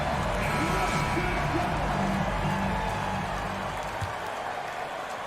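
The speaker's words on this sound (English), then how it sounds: "Please give a big round of applause for your Grizzlies youth dance team." Arena crowd applauding for the Memphis Grizzlies youth dance team during an NBA game against Phoenix, a broad steady wash of clapping and crowd noise with a low musical rumble underneath, fading slightly near the end.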